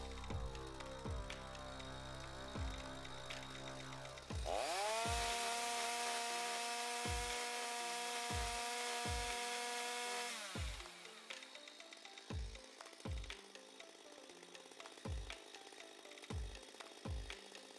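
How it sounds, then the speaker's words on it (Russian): A Stihl chainsaw revs up to a loud, sustained high-pitched roar at full throttle for several seconds, then drops back to a rough idle with repeated sharp knocks. "если работаете бензопилой Штиль, то всегда работайте в полный газ"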